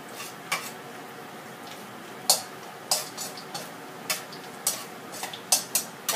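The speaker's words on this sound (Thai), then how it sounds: "เนี่ยค่ะเฮาจะคั่วไปแป๊บนึงแล้วพริกมันก็จะเริ่มสุก" Dried chilies dry-roasting in a pan for a stir-fry of bitter melon with fried pork bones, giving quiet, scattered clicks and light crackles at an uneven rhythm, close by with no talking.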